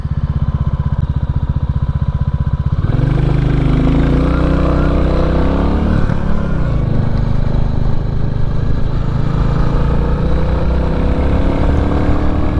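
A 2022 Royal Enfield Classic 350 motorcycle pulls out to overtake on the road. Its single-cylinder engine thumps loud and close, then revs climb and shift through gears as it accelerates past, with continuous steady engine noise and no talking.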